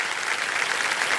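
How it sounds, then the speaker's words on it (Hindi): Studio audience applause on the KBC Season 17 quiz show set, a dense steady wash of clapping from a full room, loud and unbroken with no voices on top. "तालियां बजती रहे देवी सज्जनों, अच्छा रहेगा।"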